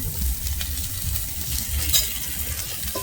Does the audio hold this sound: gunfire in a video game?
no